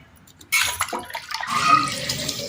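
Grated raw potato is tipped into water in a home kitchen, a sudden splash and pour about half a second in, settling into continuing watery sloshing.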